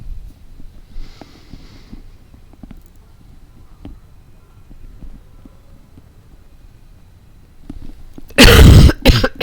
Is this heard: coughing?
yes